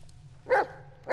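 Bullet, the dog in the Blair Witch game, gives two short barks close by, one in the middle and another right at the end, over a quiet low hum.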